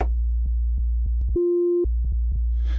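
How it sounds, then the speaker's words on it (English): A steady pure sine-wave tone from a System 8 synthesizer oscillator holds for about half a second, set between soft repeated clicks over a constant low hum. "Let's have a listen to the oscillator types. Now, they all sound like sine waves,"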